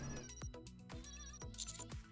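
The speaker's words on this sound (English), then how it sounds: "the sound of bell ringing comes from the counter up front." A bright electronic bell rings in quick repeated bursts from a counter in Goddess of Victory: Nikke, clear and fairly close, with a synthetic game-like tone.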